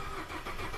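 A Ford F150 EcoBoost truck engine cranks without catching, a steady close mechanical churning that runs briefly with no spoken voices.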